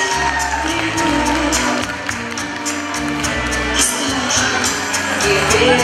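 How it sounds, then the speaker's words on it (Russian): Audience applause and cheering at an outdoor city day celebration concert, a steady crowd wash of clapping over a continuing low musical bed, with a few shouts rising from the crowd. "Аплодисменты, друзья."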